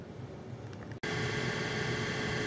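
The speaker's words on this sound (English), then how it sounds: "That sound you hear in the background is actually my furnace." A household furnace runs as a steady broadband whoosh. A brief dropout comes about a second in, and then the hum returns louder and fuller, with no talking.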